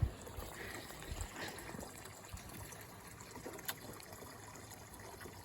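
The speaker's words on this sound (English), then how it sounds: "Filling up the water tubs real quick." Water trickles and splashes softly into cattle water tubs outdoors on a farm, a faint, continuous liquid sound with small irregular spatters throughout.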